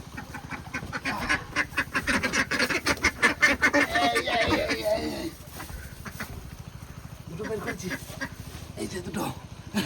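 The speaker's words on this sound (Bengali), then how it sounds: "আমার হাঁসের ঘরে ঢুকবো ওই দেখো হাঁস" Ducks in their coop honk and quack in a rapid, loud, close chorus that eases after a few seconds into scattered calls, with a person talking over them.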